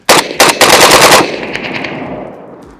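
AKM rifle firing at an outdoor range, a fast burst of several loud, close shots in quick succession that ends in a long echoing decay.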